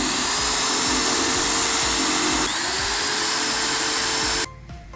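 A power drill bores holes in metal sheet for a homemade portable barbecue grill, a loud, steady whine that holds for about four and a half seconds, dips slightly in pitch midway, then cuts off abruptly.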